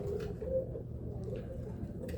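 Roller pigeons coo softly nearby, a low murmuring call repeated a couple of times over faint outdoor ambience, with no talking.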